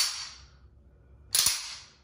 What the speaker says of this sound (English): they'll power stroke or slingshot the slide